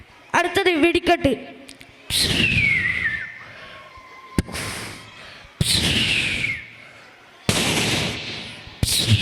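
A mimicry artist's voice imitates fireworks with a quick crackle followed by rising, whistling rocket sounds and sharp bursts, repeated several times in loud, close succession.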